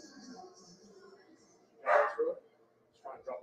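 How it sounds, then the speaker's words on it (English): A dog gives a short woof, then a couple more quick barks a moment later, heard over faint background murmur. "A little woof, woof, woof"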